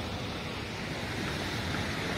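Sea waves wash onto a beach at Sant Angelo, Cavallino-Treporti, in a steady, even roar with a touch of wind and no voices.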